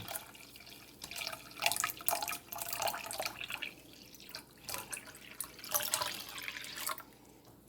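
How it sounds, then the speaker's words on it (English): Cold water pours into a drink, an irregular splashing and trickling that swells and ebbs in uneven bursts, moderately close, with no talking. "we are going to add 4 cups of cold water"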